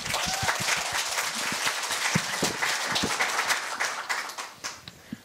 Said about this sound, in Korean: 더 뜨거운 박수와 호응 부탁드립니다.